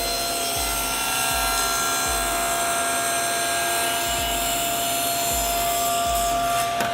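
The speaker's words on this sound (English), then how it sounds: "Take your time on the cut, because when you come out, you get a little bit of tear out." A saw cuts a door to width, its loud, steady whine filling the whole stretch up close. Low thumps recur in a regular rhythm underneath, and no one speaks.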